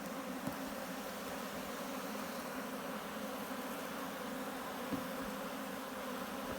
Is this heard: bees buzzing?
yes